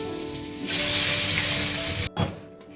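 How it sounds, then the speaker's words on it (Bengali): Potato pieces frying in oil in a wok, cut for a fish curry, burst into a loud, dense sizzle after a quieter start, then drop away abruptly before the sizzling briefly returns. "এদিকে এই কড়াইতে আলুগুলো ভেজে নিচ্ছে"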